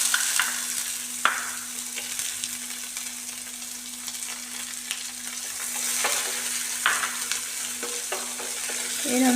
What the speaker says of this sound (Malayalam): ഒരു 2 മിനിറ്റ് സമയം നമുക്കിതിനെ വഴറ്റിയെടുക്കാം.